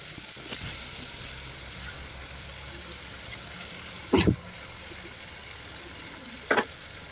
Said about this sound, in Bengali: আর এই পর্যায়ে দিয়ে দিব ধুয়ে রাখা পাবদা মাছগুলো।